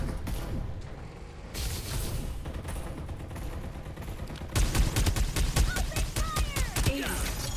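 Gunfire in the Farlight 84 battle game starts as a dense, loud rattle of rapid automatic shots partway through and continues in quick bursts, with a steady game soundscape behind it.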